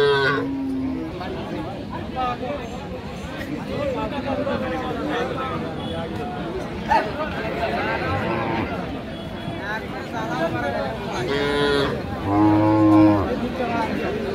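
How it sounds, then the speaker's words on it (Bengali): Cows and calves low now and then over a busy outdoor crowd at Aftabganj cattle market in Dinajpur, with people talking and chattering throughout. "গাভী বাচ্চাগুলির ভরপুর কিন্তু একটা হাট আছে"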